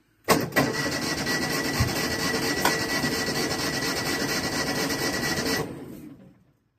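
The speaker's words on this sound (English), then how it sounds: "I can hear the fuel pump back there working." A steady buzzing whir starts abruptly, drones evenly for about five seconds, then cuts off and fades, like a car fuel pump running.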